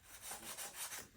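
A sneaker is scrubbed with soap in brisk, quiet back-and-forth rubbing strokes, close and alone, lasting about a second.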